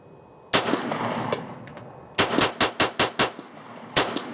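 Shots from a Norinco NP-17 9mm pistol fired outdoors at dusk: a single sharp crack, another, then a rapid string of about six evenly spaced shots and one final report, loud and close with brief echoing tails.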